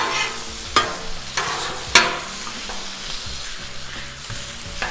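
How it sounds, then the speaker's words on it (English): Ground beef sizzles steadily on a Blackstone griddle, a close, continuous frying hiss punctuated by several sharp scraping clacks of a spatula chopping and stirring the meat. "And ground beef is super easy to cook on this thing."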